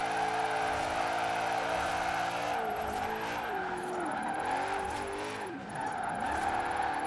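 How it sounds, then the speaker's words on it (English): A BMW drifting in Forza Horizon 4, its engine droning steadily while the tires skid and squeal sideways in a long continuous slide, loud and close throughout. "I'm holding a slide for so long just on handbrake because they just don't have grip sideways"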